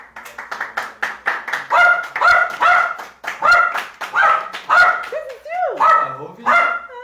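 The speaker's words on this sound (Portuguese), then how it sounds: "saiu o latido da Nina, tudo aqui, ó." A dog barks repeatedly and loudly up close, a steady series of sharp barks that turns into a few whining, yelping cries near the end.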